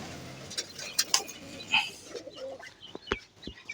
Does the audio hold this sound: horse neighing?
no